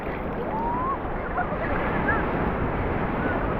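Broad, steady wash of surf and wind noise rolls on without pause at an open beach in Ireland, dense and fairly loud throughout, with faint rumble from wind buffeting the microphone.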